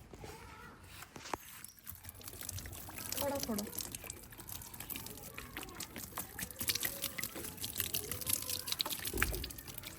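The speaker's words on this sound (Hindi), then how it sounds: "थोड़ा सा मैं इनको पानी लगाता हूँ, थोड़ा सा लगाओ किसी प्याली में डाल के," Water poured from a small cup onto potted plants, soft trickles and drips close by, partly under a person speaking Hindi.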